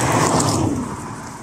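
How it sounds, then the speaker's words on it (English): Cars passing on a road right beside a woodland in southern England, a broad, loud swoosh of traffic that fades slightly toward the end, with no voices. "Noisy cars. We are right next to a road, look."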